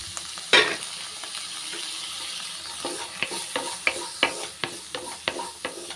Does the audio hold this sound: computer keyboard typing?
no